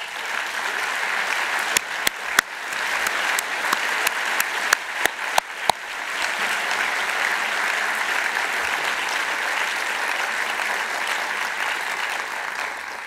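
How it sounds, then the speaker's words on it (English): Sustained applause from a conference audience for the co-organizers and staff, opening with a few sharp, distinct claps before swelling into a steady, full round of clapping that carries on evenly to the end. "Let's have a heartfelt round of applause for them all."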